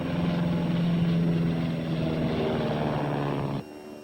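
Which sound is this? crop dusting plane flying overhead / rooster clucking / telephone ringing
crop dusting plane flying overhead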